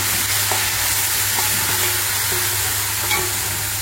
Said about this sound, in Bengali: তারপর জাস্ট 1-2 মিনিটের মতো একটু হালকা ভুনে নিতে হবে